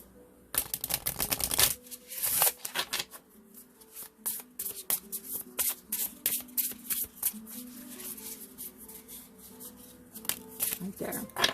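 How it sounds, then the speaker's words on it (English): Tarot cards being shuffled in quick riffling bursts, crisp and close, with brief pauses between rounds. "Let me get one shuffle"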